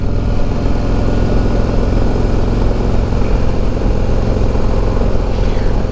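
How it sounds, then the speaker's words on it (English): Stock exhaust on a 2024 Harley-Davidson CVO Road Glide idling, a loud, steady deep engine rumble with dense low pulsing that holds unchanged throughout, close up and with no talking. "I want you guys to hear this exhaust while it's on, because it sounds amazing."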